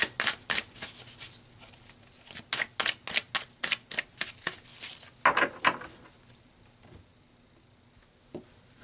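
Tarot cards are shuffled in quick riffling bursts, a rapid run of crisp flicks that slows and trails off into quiet.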